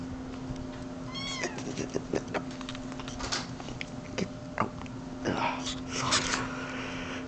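A house cat meows a few times in a thin, rising cry, close by, mixed with rustling, bumps and a person talking over it.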